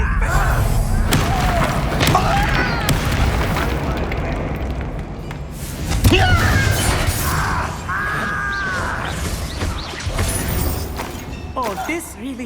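Spell-fire bursts and booms from the Confringo and Incendio spells in Hogwarts Legacy combat, with several loud impacts amid busy game sound effects, including a heavy blast near the middle.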